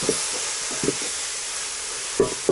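Kale being stirred in a cooking pot over a village fire in Kenya, a constant hiss of sizzling and steam with a few soft scraping knocks of the stirring spoon near the start and end.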